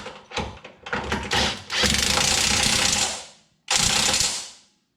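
A wrench ratchets a ball joint nut tight on a Toyota Corolla control arm, a close run of clicking mechanical strokes followed by a sustained grinding whir, a short gap, then one more burst.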